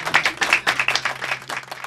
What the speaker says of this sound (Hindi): जोरदार तालियां रफी